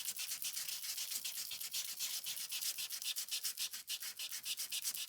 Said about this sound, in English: I'm going to sand it.